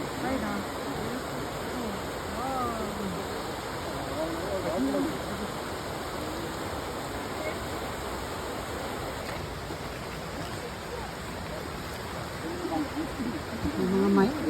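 Small waterfall at Kanmangafuchi Abyss in Nikko, a steady broadband rush of falling water that holds even throughout, with voices chatting faintly beneath it.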